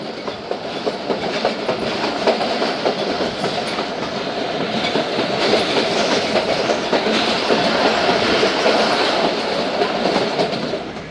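Thal Express train rolling into Lalian railway station, a steady loud rumble of carriages with continuous clickety-clack of wheels on rails and faint squeals, no voices.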